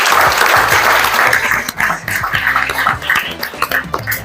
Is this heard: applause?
yes